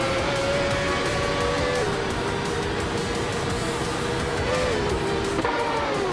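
A Lola T9500 race car in a video game, its engine holding a steady, loud drone with small pitch steps at gear changes, dense and continuous throughout with no talking.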